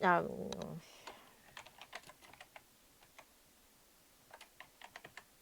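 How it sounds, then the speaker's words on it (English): Typing on a computer keyboard during C++ programming work, scattered light clicks of keys in short irregular bursts, close and quiet, after a brief voice at the start. "I need to type right."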